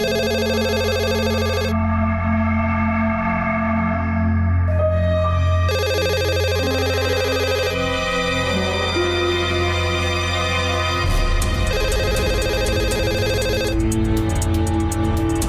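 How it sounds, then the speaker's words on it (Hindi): Electronic telephone ringtone playing as a repeating melodic tune, steady and fairly loud, shifting through several tonal phrases with no voices over it. "उस दिन देर रात गोविंद का फोन आया।"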